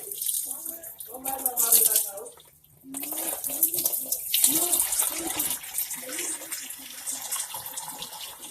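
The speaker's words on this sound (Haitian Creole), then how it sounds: "Nous mettons de l'eau à côté." Water is poured from a tap into a cooking pot in a home kitchen for a stuffed pumpkin dish, a steady splashing stream broken by a brief pause, with a person speaking over it.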